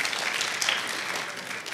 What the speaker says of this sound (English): Clap for me because I did pretty good.